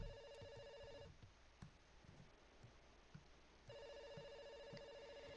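A telephone rings in a video game with repeating electronic tones that sound at the start, break off for a few seconds under faint ticking, then resume.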